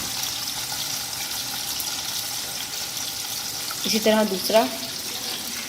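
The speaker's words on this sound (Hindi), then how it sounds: "अभी देखें ये कबाब फ्राई हो रहे हैं" Beef shami kebabs, dipped in beaten egg, shallow-fry in a generous layer of oil with a steady, soft sizzle throughout, and a voice speaks briefly near the end.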